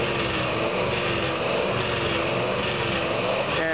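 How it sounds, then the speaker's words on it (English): A truck engine idles and revs on a street outside an abortion clinic, a steady close droning rumble that holds a constant level throughout with no talk. "you can see this truck is revving its engine just simply to block pro-lifers offering help to women in need"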